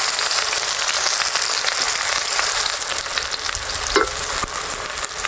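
Chopped onions, about a quarter kilo, sizzle and fry in hot oil in a kadai, a steady loud crackle with a stirring scrape near the end and no talk.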